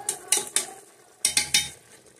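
Spoon stirring Tuscan sausage in a pressure cooker, two clusters of quick scraping clinks against the metal pot with a faint sizzle underneath, close and with no talk.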